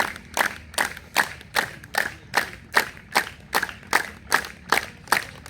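A seated audience at an anniversary ceremony claps in unison, about a dozen loud, evenly spaced claps in a steady counted rhythm, with no voices between them.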